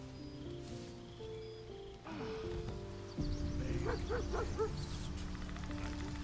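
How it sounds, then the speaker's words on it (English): A dog barks a few times mid-distance in a video game, short, clear barks over steady game ambience and a rain-like background hiss. "I heard the doggo."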